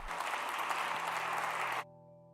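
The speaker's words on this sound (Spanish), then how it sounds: "Aplaudimos a Jesús" A church congregation claps for Jesus in a steady wash of applause that runs for almost two seconds, then cuts off abruptly, leaving only a low hum.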